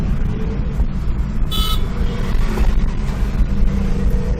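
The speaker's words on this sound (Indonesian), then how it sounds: "Di sini juga sangat ramai kendaraan." Busy road traffic on a street in Makassar, with a steady roar of passing cars and motorbikes and one short, loud car horn toot partway through.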